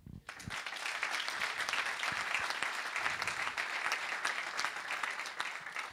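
A crowd at a public meeting in Anglet claps steadily and fairly loudly for several seconds, a dense, sustained patter of many hands with no break.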